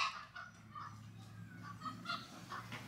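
Chickens and other fowl in a village house yard squawk and cluck in agitated bursts while being chased, moderately near, with a steady low hum beneath.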